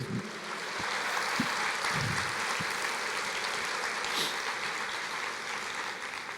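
Congregation applause during a church sermon on women's influence, swelling quickly into a steady wash of clapping that holds evenly, with a few low thumps and a voice-like murmur near the start.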